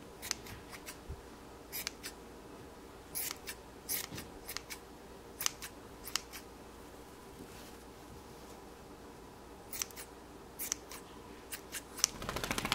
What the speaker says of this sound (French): Ce qui dépasse comme laine,